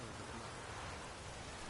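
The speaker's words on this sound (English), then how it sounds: "Looks like rain." Steady rainfall in the Witcher 3 video game, a dense, even hiss of rain filling the whole stretch without pause, fairly quiet and with no voices over it.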